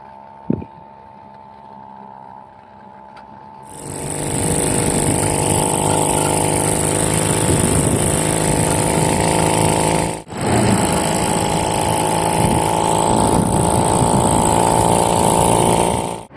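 A homemade kick scooter with a small two-stroke engine idles quietly, then rises to a loud, steady buzzing drone at quarter throttle, with one brief dip partway through.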